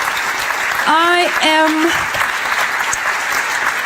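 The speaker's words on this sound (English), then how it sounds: "Yes, let's clap for that." Applause from a lecture audience fills the room with steady, dense clapping throughout, while a speaker's voice briefly rises over it.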